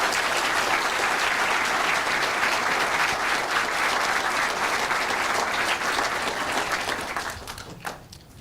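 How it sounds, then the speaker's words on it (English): Sustained audience applause following a speech at an April 2008 talk, dense and steady clapping from a large crowd that fades out in the last second. "I gather from the applause everyone else did too"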